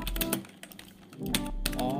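Rapid keystrokes on a computer keyboard, typing a search into a web browser, come as quick close clicks with someone talking over part of the typing.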